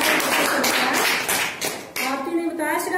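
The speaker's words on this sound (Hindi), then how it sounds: "Very good. तालियां बजाओ।" Children in a classroom clap together on cue for a correct answer, a loud and dense burst of hand claps lasting several seconds, with a teacher's voice speaking over the end.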